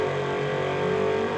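A Mercedes and a Chevrolet street-legal drag race car run at a strip, heard as a short, loud, steady engine drone with harmonic tones and no talking.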